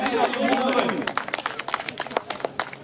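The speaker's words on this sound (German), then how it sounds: "Erstmal einen herzlichen Applaus bitte für Mr." Scattered clapping from a modest crowd at a harness horse race track, a handful of distinct claps rising after a voice over the speakers, fairly near and brief.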